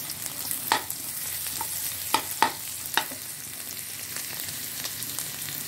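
Garlic fries in hot oil in a pan, a constant close sizzle punctuated by sharp intermittent utensil taps and stirring knocks.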